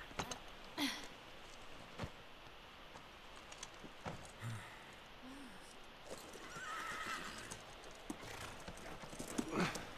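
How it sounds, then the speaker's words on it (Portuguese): Horses clip-clop at an easy trot in The Last of Us Remastered while one neighs, with quiet ambient game sound around them and scattered soft clatter. "Vamos aos cavalos."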